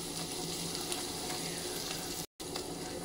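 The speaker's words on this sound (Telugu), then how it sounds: "2 మినిట్స్ అయిన తర్వాత ఇలా పన్నీర్ని కలబెట్టుకోండి. ఇంకొక 2 మినిట్స్ ఫ్రై చేసుకోండి." Paneer cubes fry in oil in a pan with a dense, steady sizzle and light stirring, broken by a brief silent gap near the end.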